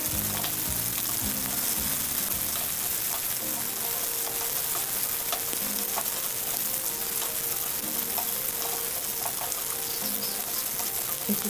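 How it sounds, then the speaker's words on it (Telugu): Green chillies frying in oil in a pan on the stove for peanut chutney, a loud, continuous crackling sizzle with faint stirring clinks. "ఇప్పుడు పచ్చిమిర్చి వేసుకొని వేయించుకుందాం."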